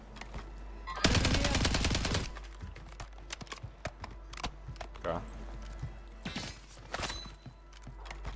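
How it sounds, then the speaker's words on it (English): Automatic gunfire in the Warzone battle-royale video game, using an FJX Horus submachine gun: a loud sustained burst of rapid shots, followed by scattered fainter shots and clicks with a voice talking over them. "Shooting at me."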